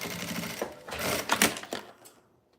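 A sewing machine stitches fabric for a small zippered pouch, running in short close rattling bursts with brief pauses before it winds down to silence.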